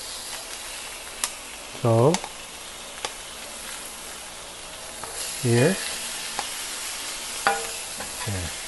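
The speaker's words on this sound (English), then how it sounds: "you want to hear that sizzle" Steak sizzles steadily in a hot pan, with a few sharp clinks of utensils and a couple of brief spoken words.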